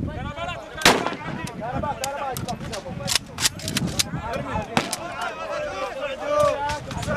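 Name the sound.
gunshots fired upward into the air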